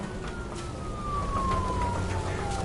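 A police car siren in the video game Nobody Wants to Die wails as a steady tone that slowly glides downward, heard over a dense low rumble of engine and ambient noise.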